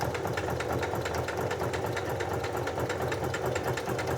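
Close and steady, a sewing machine runs a straight parallel row of stitches, its fast, even mechanical whirr and needle chatter continuing without break.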